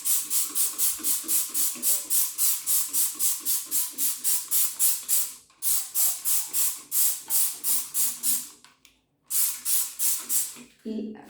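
VIAKAL limescale spray pumped in a shower, a rapid run of short sharp hissing squirts in quick regular bursts, close and crisp, with a couple of brief pauses between runs.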